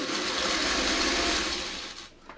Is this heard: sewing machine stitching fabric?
yes